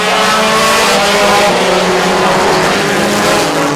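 Four-cylinder race cars roar down the back straightaway at Lancaster Motorplex during a heat race, a loud, continuous engine drone filling the whole stretch with steady, slightly wavering pitch.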